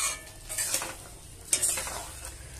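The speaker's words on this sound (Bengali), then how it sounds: "এবার আমি আরেকটু নেড়ে ছেড়ে তারপরে নামিয়ে দেবো।" Fish curry with potol and green banana being stirred in a pan, a spoon scraping through the thick gravy in a few strokes over a soft background sizzle, close and fairly quiet, with a sharper scrape midway.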